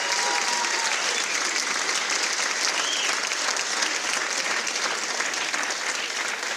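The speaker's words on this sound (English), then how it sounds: "How about one more nice round of applause for our" Audience applauding Hall of Fame inductees at a college athletics ceremony, a steady sustained round of clapping from a crowd filling the whole stretch, with a faint voice briefly audible underneath.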